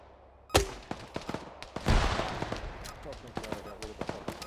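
Gunfire in a milsim shooter video game: a loud close shot, then a heavier blast and a scatter of sharp rifle cracks and distant pops. Some are single shots and some come in quick bursts.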